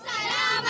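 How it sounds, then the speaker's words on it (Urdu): Schoolchildren, students and teachers at a Salam Pak Foj rally in Karachi chant Pakistan Zindabad slogans together, a loud, bright crowd of young voices shouting in unison, close and sustained. "پاکستان زندہ باد کے نعرے لگائے"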